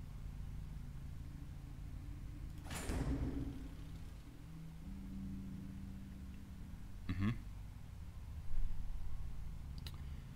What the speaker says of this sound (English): Just closes the door.